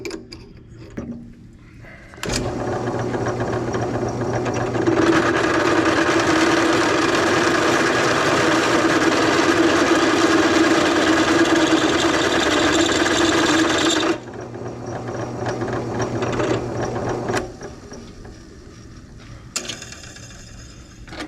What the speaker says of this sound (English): we can't kind of countersink the center of that hole just a little bit more